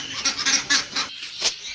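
Ducks quack repeatedly at close range, a rapid series of nasal honking calls with short pauses between them.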